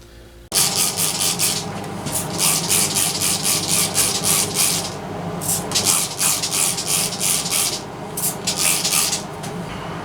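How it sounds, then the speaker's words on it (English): A MIG welder lays a few tack welds fixing a car seat to its tracks, giving loud, close crackling bursts separated by short pauses. "Then the welder's crammed in the corner, the MIG. Throw a couple of tacks on it."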